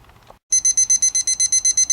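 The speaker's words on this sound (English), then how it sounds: "alarm went off, the alert alarm for this probe, temperature probe at 145 degrees Fahrenheit" A temperature probe alert alarm set at 145 degrees Fahrenheit during a guitar soundboard repair, starting after a faint bit of background noise and beeping in a rapid, loud, regular electronic pulse train of about a dozen tones.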